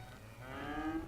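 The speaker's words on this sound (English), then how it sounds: "You can hear it mooing." A cow in the city-building game Cities Skylines moos once, long and low and fairly faint, over a soft ambient game background.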